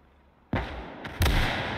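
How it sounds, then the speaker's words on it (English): Two heavy, close booms of direct artillery fire in the World War II game Gates of Hell: Ostfront, the second louder, each leaving a rumbling tail after a quiet lead-in. "Lots of direct firing happening."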